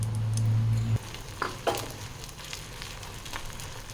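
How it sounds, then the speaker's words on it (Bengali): Deboned Bombay duck fish dropped into a pan of fried onion and garlic sizzles steadily, with a louder burst as it goes in and scattered crackles and stirring scrapes afterward, close up with no talking. "পেঁয়াজ রসুন ভাজা হয়ে গেছে, এবার কাটা ছাড়ানো মাছটা দিয়ে দিচ্ছি।"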